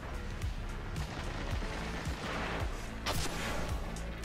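Rapid gunfire and explosive booms from a multiplayer shooter video game match, a steady dense barrage of shots with a sharper burst near the end, no talking.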